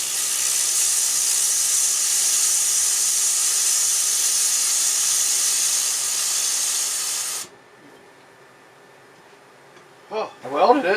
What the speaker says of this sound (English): Oh, I welded it.